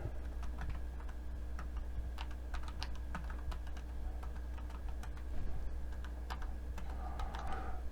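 A command being typed on a computer keyboard, a quick uneven run of light close key clicks with brief pauses over a low steady hum.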